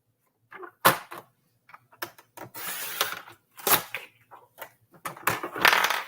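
Paper trimmer blade cutting cardstock: a series of separate scraping, crunching slices and clicks, close and distinct, with quiet pauses between strokes.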